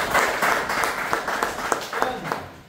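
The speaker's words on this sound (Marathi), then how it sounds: "दोघांसाठी एकदा जोरदार टाळ्या झाल्या पाहिजे" Audience in a seminar hall clapping for two people, a loud burst of many hands with distinct individual claps standing out, tapering near the end.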